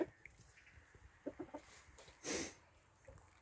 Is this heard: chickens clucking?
yes